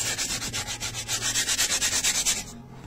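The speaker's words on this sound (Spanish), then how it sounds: "Mira, pues ves cómo va saliendo la suciedad. Así por todo el cuero. Vamos refregando." A cleaning brush scrubs leather car upholstery in quick, even back-and-forth strokes, about a dozen rasping passes in under three seconds. It is close and moderately loud, then stops abruptly, with no speech.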